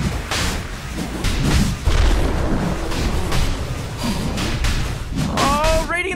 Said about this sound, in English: Radiant's bottom tower is under attack!